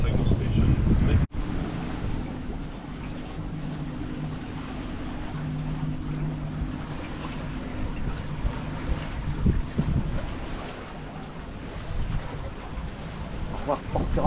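A solo sailboat beats close-hauled at about 40 degrees off the Mediterranean coast near Porquerolles, with steady wind roar buffeting the microphone, water rushing and slapping along the hull, a faint low hum underneath, and a sharp knock early on.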